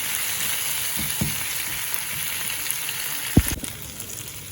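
Garlic and pepper rasam ingredients frying in a pan while being stirred: a steady, close hiss of sizzling with a couple of sharp knocks from the spoon against the pan, no voices.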